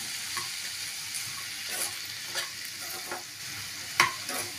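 Broad beans stir-fried in a frying pan with salt and cumin powder give off a steady sizzle, while a spoon stirs and scrapes against the pan in soft irregular strokes, close and clear.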